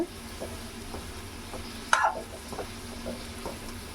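A pan of cauliflower gravy is stirred with a spoon: soft, faint scraping and gentle bubbling, with one brief sharper clink partway through, and no talking.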